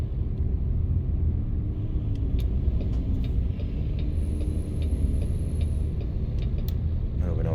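Steady low truck engine rumble in American Truck Simulator, heard from inside the cab with a faint high whine and a few light clicks, continuous and fairly loud throughout.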